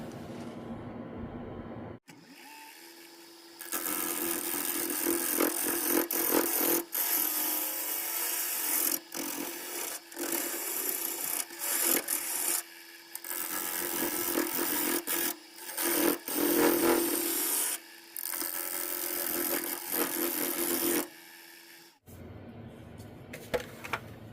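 Woodturning gouge cutting shavings from a wet, green wood bowl blank on a lathe, a steady loud scraping and ripping that runs in long bursts with brief pauses between passes.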